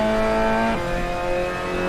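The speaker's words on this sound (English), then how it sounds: "That's a very loud engine from that close." A loud Mazda MX-5 race car in the MX-5 Supercup at Snetterton roars past very close, its buzzing engine note holding steady and then dropping in pitch as it goes by.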